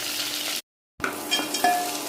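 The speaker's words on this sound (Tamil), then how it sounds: "2 பெரிய வெங்காயம் நறுக்கி வச்சுருக்கோம், அதையும் போட்டுக்கலாம். இது பாதி அளவுக்கு வதங்கட்டும்." Chopped onions and curry leaves fry in a hot pan with a steady, close sizzle, broken once by a short silent gap before the crackling resumes with small pops and stirring.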